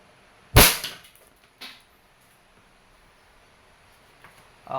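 A Benjamin Prowler break-barrel airgun fires a 15.7-grain pellet: one sharp, loud crack, followed a second later by a fainter impact-like click and a few small clicks in a quiet room.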